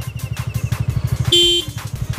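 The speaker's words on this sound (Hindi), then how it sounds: "दोस्तों इसका हॉर्न कुछ ऐसा है," A TVS Ntorq 125 scooter engine putters in a rapid idle rhythm, then its short, high-pitched horn beeps once before the engine sound continues.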